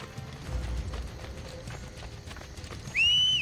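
A horse's hooves clip-clop at a walking pace through the streets of Rome in the video game Assassin's Creed Brotherhood, ending with a sharp, loud whinny.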